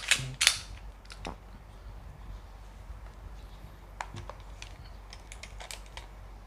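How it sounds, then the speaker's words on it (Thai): A replica handgun has its magazine removed and slide pulled: a couple of sharp, close metallic clacks at the start, then scattered lighter clicks and a later snap over a quiet room. "ปลดแมกกาซีนนะครับ ดึงสไลด์นะครับเพื่อให้แน่ใจว่า ไม่มีลูกค้างอยู่ในลำกล้องนะครับ"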